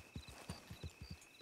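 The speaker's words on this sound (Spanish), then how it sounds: "Una manada de caballos" A herd of horses in Red Dead Redemption II trotting past, with about six clear hoof clip-clop beats in a steady rhythm over a quiet ambient background, fairly close.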